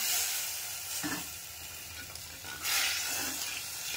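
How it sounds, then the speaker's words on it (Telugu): Tamarind broth simmering in a pan for Bombay chutney, a steady close sizzle and bubbling hiss with a couple of brief louder surges, no talk. "ఈ చింతపండు పులుసు బాగా ఉడకాలండి"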